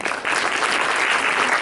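Brief burst of dense audience clapping at a student council election debate, full and close, starting just after a short pause and holding steady.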